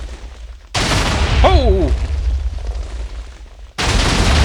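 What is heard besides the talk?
TNT exploding in sequence in Minecraft video game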